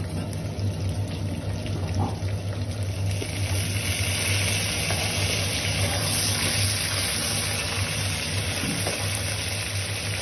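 Garlic and ginger paste sizzling in a pan while carrot pickle is made, a steady even hiss throughout with faint background hum and no talking.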